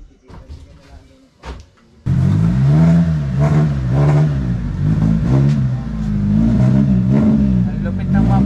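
A car engine revs hard through a loud aftermarket muffler, a deep sustained roar with rising and falling pulses that bursts in after a few seconds of quieter idling and shuffling.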